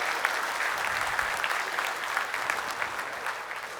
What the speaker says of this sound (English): Let's give them another hand of applause, absolutely.